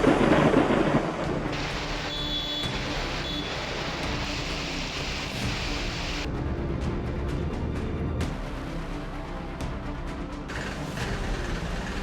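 Heavy monsoon rain pours steadily in Mumbai, a dense continuous roar with a loud burst at the start and low thunder rumbling beneath, no voices.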